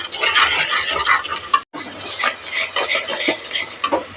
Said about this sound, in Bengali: মশলা হালকা কষিয়ে নেব